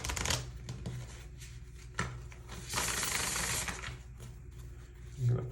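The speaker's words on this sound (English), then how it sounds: "I feel like I have to shuffle one more time to pull the last card" A deck of tarot cards is shuffled by hand in a steady, close, rustling patter that swells into a denser riffle midway, with no talking.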